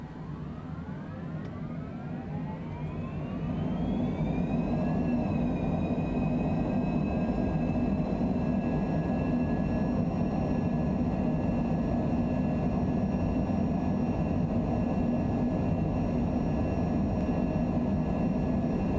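A Cessna Citation business jet taking off in Microsoft Flight Simulator 2020, turbine whine rising steadily in pitch over the first few seconds, then holding as a loud, sustained engine roar with high-pitched tones.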